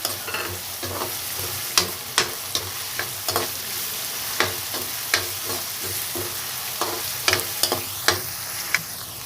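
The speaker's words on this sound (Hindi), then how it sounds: "जब तक प्याज फ्राई हो रहे हैं," Steady sizzle of onions frying in a pan, with sharp spatula scrapes and clicks stirring at irregular intervals; no voices.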